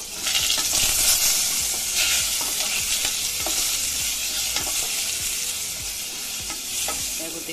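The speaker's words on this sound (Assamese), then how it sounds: "এয়া গোটেইখিনি আলু ভাজি ল'লোঁ" Potatoes sizzle as they fry in a pan with turmeric and salt, under constant scraping and stirring. The frying noise stays close and steady throughout with no voices.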